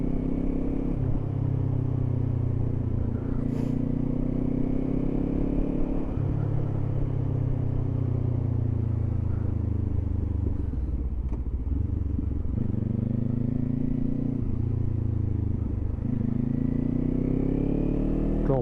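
A 2024 Kawasaki Z500 motorcycle accelerating on the road, its engine droning and climbing through several gears with repeated rising sweeps, steady and fairly close, without talk.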